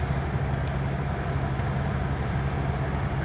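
Steady roadway rumble of traffic on a Mumbai highway, with buses, bikes and cars heard from inside a moving vehicle as a continuous low drone and no distinct passing events.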